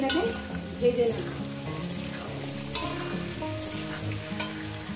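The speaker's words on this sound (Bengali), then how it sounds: "এরপর মুখি কচু আলুটাকে সুন্দর করে মিনিমাম 6 থেকে 7 মিনিট আমি এটাকে ভেজে নেব" Taro corms and potatoes fry in hot oil in a pan, giving a steady crackling sizzle with occasional stirring over a faint tonal background.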